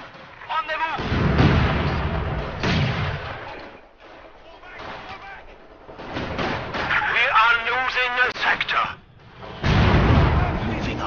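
Troops fire on enemy infantry in a Company of Heroes 2 battle: repeated gunfire bursts and heavy thumps come in waves, mixed with in-game voice chatter.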